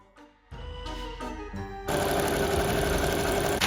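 Sewing machine stitching trim onto a dress lining neckline: a few short starts of the motor, then a continuous close, buzzing run of rapid stitching until it stops.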